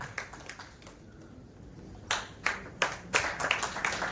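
Scattered hand claps at a Dalit workers' committee gathering, a few isolated claps early and then a denser burst of sharp claps over quiet room noise.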